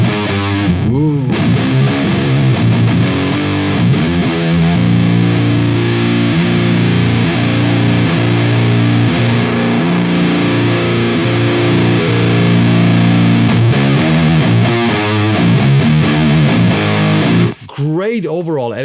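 Heavily saturated electric guitar chugs and rings out loud and buzzy, with sustained fuzzy chords and palm-muted riffs, stopping abruptly near the end.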